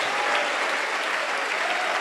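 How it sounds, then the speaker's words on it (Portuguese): A church congregation claps steadily and loudly for the full two seconds, a dense continuous wash of applause with no pauses and no voices rising above it. "Aplauda o Senhor,"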